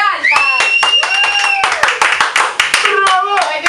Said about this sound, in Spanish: él exige sus aplausos exclusivos a Josecito